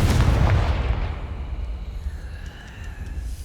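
A Confringo blasting spell explodes in Hogwarts Legacy with a loud deep boom that fades into a rumbling, crackling tail.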